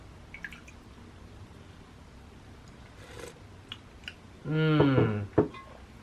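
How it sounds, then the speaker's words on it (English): Coconut milk poured into a cup of tea gives a short gurgling glug near the end, after a quiet stretch with faint clinks and taps. "I have the rest of the coconut milk right here. Straight into my tea."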